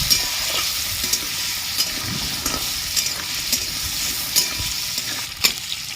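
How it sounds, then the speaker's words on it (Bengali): Potato pieces fry in oil with a pinch of turmeric and salt for a ridge gourd curry, a continuous close sizzle broken by regular clacks of a spatula stirring against the pan. "এই তেলেই আমি আলুটা ভেজে নিচ্ছি সামান্য একটু হলুদ দিয়ে দিচ্ছি সামান্য একটু নুন দিয়ে দিচ্ছি"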